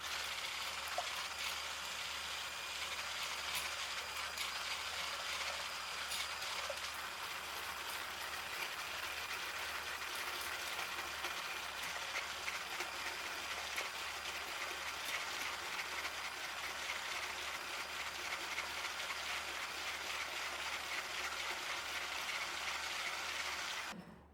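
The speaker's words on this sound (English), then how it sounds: "Now I'm going to take my mixer and just start whipping the whites." Electric mixer whipping egg whites into meringue for a Finnish red currant cake: a steady, even whirring hum that runs unbroken and moderately quiet throughout, with no talking.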